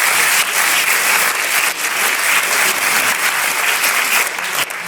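Sustained, dense applause from a theatre audience for the director, Frédérique Musolini, at the Théâtre Jacques Cœur season presentation. It is loud and steady throughout with no voices on top.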